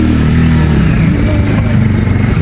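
A motorcycle engine runs loud and close with a continuous throaty rumble as the bike sets off on a trip from Kathmandu toward Pokhara; no clear rising rev is evident.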